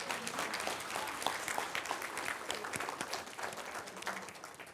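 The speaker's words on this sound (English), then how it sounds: "keep clapping." Audience clapping at a keynote talk during a conference, a dense, steady patter of many hands that continues without pause at moderate volume, no talk over it.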